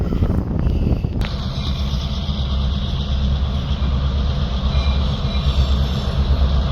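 A train rolls past a trackside spot in the Chicago area, a steady, loud, close rumble of wheels and cars with one sharp clank early on.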